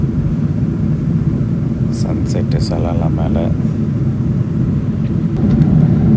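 Steady broadband cabin roar of an Emirates Boeing 777-300 airliner cruising between Dar es Salaam and Dubai, continuous and loud throughout, with someone speaking over it.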